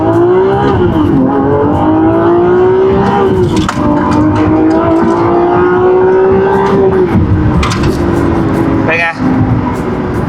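A Lamborghini Aventador SVJ engine accelerating from inside the car, a loud rising roar that climbs in pitch, dips at a gear change, then climbs again, heard close with a brief sharp pop near the end.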